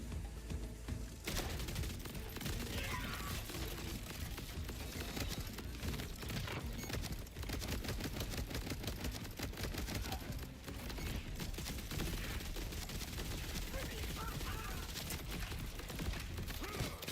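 Rapid gunfire bursts from the video game Borderlands 4, dense repeated shots and mechanical clatter running continuously at a steady, moderate level.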